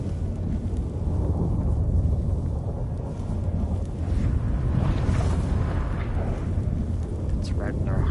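Storm thunder in the video game The Witcher 3, a loud, continuous deep rolling rumble that swells and fades over several seconds, with faint voices underneath.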